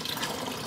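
Water poured from a pail into a container to lift a float, a steady close splashing and trickling fill with no pauses.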